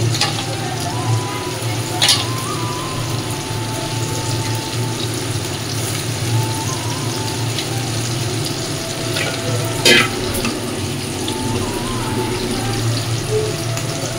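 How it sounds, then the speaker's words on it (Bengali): Chicken pieces frying in a pan with ginger-garlic paste, a steady sizzle with occasional clinks and sharp scrapes of a spatula against the pan, a few faint background noises. "চিকেনটা দিয়ে ভাজতে লাগি"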